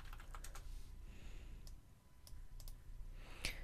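Quiet computer clicks while resizing shapes in Cricut design software, a scattered series of sharp, close ticks of mouse buttons and keys at an uneven pace, with no talking.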